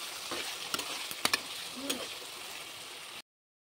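Cucumber curry frying in a pan is stirred lightly, a soft steady sizzle broken by a few sharp scraping clicks of the utensil against the pan, fairly quiet, then cutting off abruptly.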